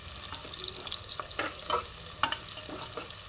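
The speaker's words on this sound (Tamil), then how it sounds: "வெங்காயம் நல்லா வதங்கி இப்போ வந்து கருவேப்பிலை போட்டுக்கலாம்." Onions and curry leaves fry in a pan for a Tiruppur mutton dish, giving a close, steady sizzle with quick stirring scrapes.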